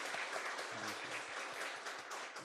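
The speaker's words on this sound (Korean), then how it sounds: "우리 박수로 환영하겠습니다." Church congregation applauding to welcome new members during a Sunday worship service, a soft, steady patter of many hands heard at a distance, with a few low sounds underneath.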